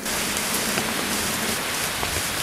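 Steady rain pours down in windy, cold weather, a dense, even hiss of drops striking surfaces, continuous and close, with no talking.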